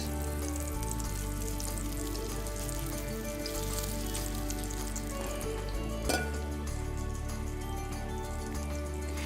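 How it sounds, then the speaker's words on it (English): Pangasius fish cake frying in melted butter in a pan, a steady soft sizzle and crackle running throughout at low level with a brief sharper pop partway, and no talking. "now we are going to fry our fish cake."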